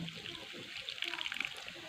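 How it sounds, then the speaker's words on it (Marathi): Water poured into a pan to rinse mandeli fish for a home-cooked dish, a brief soft splashing and trickling close by, with no talking. "हे धुवायलासाठी याच्यामध्ये थोडंसं पाणी टाकायचे"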